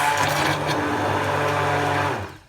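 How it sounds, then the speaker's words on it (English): Immersion blender whirring as emulsifiers are slowly added to a mixture, a continuous close motor drone for about two seconds before winding down. "put the blender in and slowly start adding the emulsifiers"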